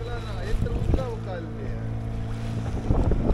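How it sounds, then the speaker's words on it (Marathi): Strong wind and rough sea waves around a fishing boat at sea, a steady gusty rush with sloshing water and engine drone, while people talk in the background. "वाऱ्याचा वेग वाढलो त्याच्यामुळे दर्यो पण आता बऱ्यापैकी खवळलेलो आहे."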